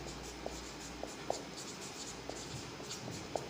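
A pen or chalk scratches out an equation in a quiet room, soft continuous strokes punctuated by small taps every few tenths of a second, close and faint.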